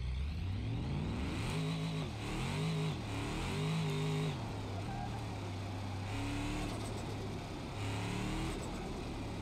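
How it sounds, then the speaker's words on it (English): A car engine in BeamNG Drive revs up and down repeatedly with turbo whine, rising and falling pitch sweeps over a steady engine drone, continuous and fairly loud throughout. "Oh, I love the turbo noises."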